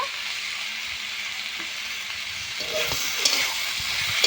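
Elephant foot yam stalks with prawns sauté in a pan, a steady close sizzling hiss with occasional soft stirring scrapes and clicks, no talk.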